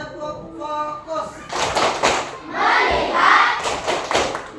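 Schoolchildren in a primary school classroom do the 'tepuk fokus' rhythmic clapping chant, a burst of group claps and thumps mixed with voices, fairly close and loud.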